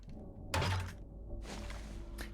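Weapon reloading in the video game 7 Days to Die: a heavy mechanical thunk followed by a softer clack and a brief click, with no talk over them.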